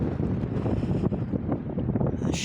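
Storm wind buffets the microphone outdoors on the Isle of Arran, a dense close rumble with gusty surges that stays loud for a couple of seconds, with no voices.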